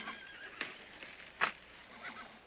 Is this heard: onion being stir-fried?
no